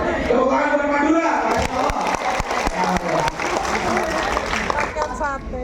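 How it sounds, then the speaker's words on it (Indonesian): Crowd applause and cheering at a Samira Travel scale-up gathering in East Java, a loud dense wash of clapping with voices calling out over it, continuing for several seconds. "Tepuk tangan buat Madura"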